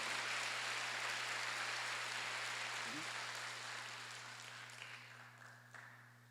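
Church congregation clapping at a Sunday worship service, a broad, steady wash of many hands that slowly fades toward the end over a low constant hum.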